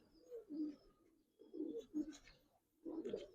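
Soft, low pigeon coos in three short bursts with pauses between, fairly quiet and close.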